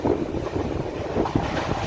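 A train on the Kottayam to Kanniyakumari route rolls along the tracks with a steady low rumble and faint rhythmic clatter, no voices.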